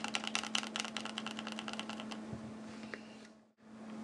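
Fast typing on a mechanical keyboard fitted with OwLabs Mr. Suit keycaps gives crisp, rapid clacks close to the microphone over a low hum, then the keystrokes trail off into a few scattered taps.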